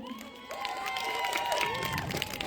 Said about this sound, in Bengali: জোরে হাততালি তাদের জন্য।